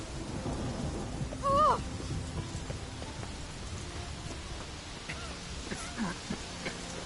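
Steady rain hisses in the video game The Witcher 3, with a low rumble of thunder underneath and a few faint whistling tones, fairly quiet and even throughout.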